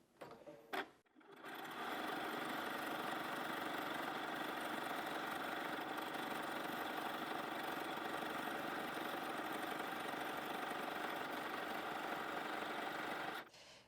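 A sewing machine runs a steady, continuous zigzag stitch through several layers of fleece on a Santa hat, a close, even mechanical whir after a brief start, stopping abruptly at the end.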